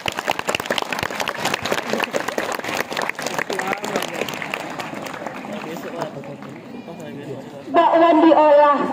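A group of schoolchildren claps and cheers at a morning gathering, with dense, loud, scattered clapping and excited chatter. The clapping fades, then a surge of children's voices and shouts takes over at the end.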